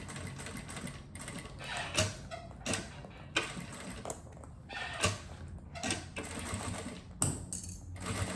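Sewing machine stitching a closed cosmetic bag, with short bursts of rapid mechanical stitching broken by pauses and sharp clicks, close and fairly quiet, with no voices.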